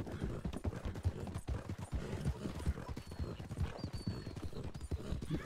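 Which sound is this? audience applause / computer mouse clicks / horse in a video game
horse in a video game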